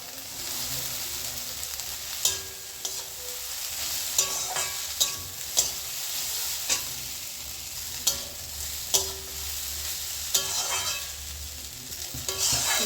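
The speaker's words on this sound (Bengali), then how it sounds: "এইবার আমি চাউমিনগুলো দিয়ে দিচ্ছি।" Chow mein noodles stir-fried in a pan with fried egg, tomato and potato, a steady sizzle broken by sharp clicks and scrapes of a spatula at irregular intervals, close and alone with no talk.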